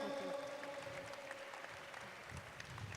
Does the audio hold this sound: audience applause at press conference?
yes